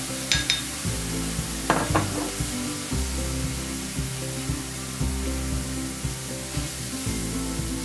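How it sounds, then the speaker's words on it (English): Spices sautéing in a pan for a Mysore masala dosa filling, a steady close sizzle running throughout with a few brief clinks of a utensil stirring early on. "Saute for another 30 seconds"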